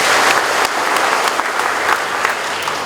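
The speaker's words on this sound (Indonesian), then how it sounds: "terima kasih, tepuk tangan untuk kalian semuanya" Loud, steady applause from the audience at a morning assembly, many hands clapping continuously throughout without any talk.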